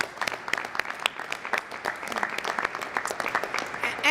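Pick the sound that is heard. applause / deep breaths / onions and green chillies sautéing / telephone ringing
applause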